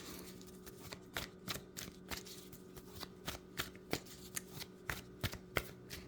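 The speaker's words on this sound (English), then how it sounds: "I'm just going to do one more shuffle with the map cards" Tarot-style map cards being shuffled, a quick rhythmic series of crisp riffling bursts close by, repeating steadily with no talking.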